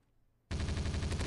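Sudden, loud, continuous burst of SMG automatic fire in the mobile shooter game MaskGun, rapid and sustained after a short quiet lead-in.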